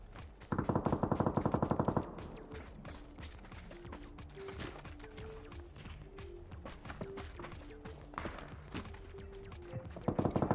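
Bursts of rapid automatic gunfire in the video game PUBG on the winter Erangel map open and close the stretch, with quieter game sounds and faint tonal effects between them.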